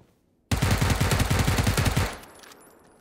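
A rapid burst of automatic gunfire in PUBG rattles loud and close for about a second and a half, then cuts off and leaves a faint echoing tail.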